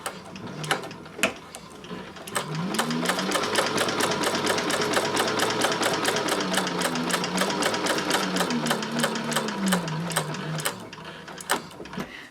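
A Techsew 4800 Pro sewing machine bastes pockets to front and back panels at a long stitch length, whirring steadily with a fast, even needle rhythm for about eight seconds, with a few separate clicks before and after.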